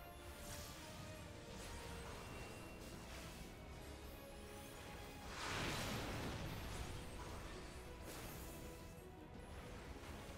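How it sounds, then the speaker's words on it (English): An explosion in Final Fantasy XIV: Endwalker during the level 88 story quest As the Heavens Burn, a faint whooshing blast that swells mid-way over a steady bed of battle effects and music. "Explosion."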